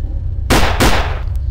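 Two sharp, loud bursts of gunfire ring out in quick succession in the Android slasher horror game Jason Asylum: Serial Killer Horrific Slasher Night, then fade into a low background hum.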